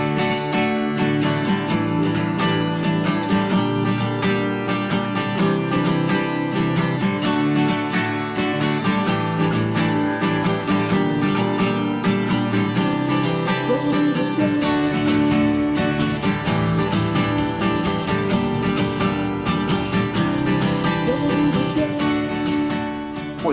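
Distorted electric guitar on a crunchy amp setting strums the intro chords of a song in steady driving rhythm, loud and continuous throughout with no talking.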